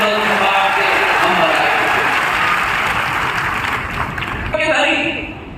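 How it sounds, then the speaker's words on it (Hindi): Thunderous applause from a large crowd at a political rally in the Gwalior-Chambal region, a dense, steady roar of clapping lasting throughout and fading slightly toward the end. "तालियों की गड़गड़ाहट से ग्वालियर चंबल संभाग से हम"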